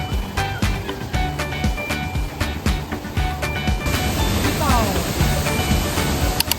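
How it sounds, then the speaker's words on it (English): Katibawasan Falls on Camiguin Island pours down a wide natural curtain, giving a steady, full rushing roar of falling water with scattered splashy bursts throughout. "the soothing sound of water cascading down a wide natural curtain"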